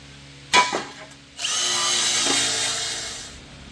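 Drill spinning a wire wheel to scrub rust off a car part, with a sharp knock first and then a sustained loud, gritty whirring buzz close by.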